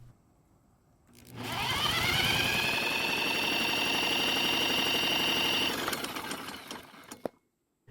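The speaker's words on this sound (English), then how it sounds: "when you spin the engine over with the drill, it'll measure how much pressure the engine can make" A cordless drill spins a Toro lawn mower engine over during a compression test, giving a steady, close whirring drone with a rhythmic chugging underneath and a rising pitch that holds for about four seconds before it winds down and stops.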